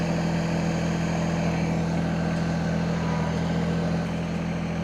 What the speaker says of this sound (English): Tractor's super quiet